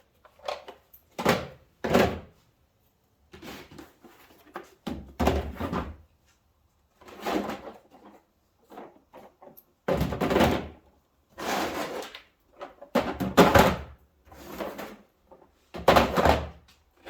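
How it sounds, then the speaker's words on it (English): A plastic blow-mold case drawer gets stuffed and pushed shut, with a run of close thunks, bumps and rustling items in irregular bursts, with quiet gaps between them. "Get everything stuffed back in the drawer."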